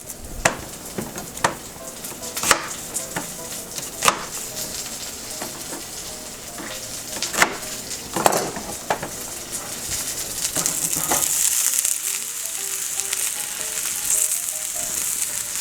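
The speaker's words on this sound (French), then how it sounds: "On va griller les oignons un peu." Onions fry in a pan with a steady, close sizzle, broken by sharp clicks and scrapes of stirring. The hiss grows brighter and louder near the end, and no one speaks.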